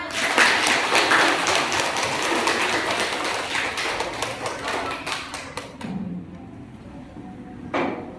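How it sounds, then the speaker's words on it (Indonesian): Classroom audience applause during a teaching practice lesson, a steady dense patter of many hands clapping at close range for about six seconds, then fading to quiet room noise with a brief final burst of claps. "Beri tepuk tangan."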